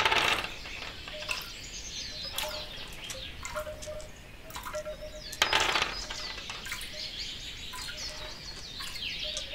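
Water droplets fall in a steady, irregular patter of bright drips, set among chirping birdsong in a layered stereo relaxation soundscape.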